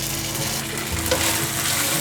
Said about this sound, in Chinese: 锅内放入少许的橄榄油，润锅子，把豆包放进来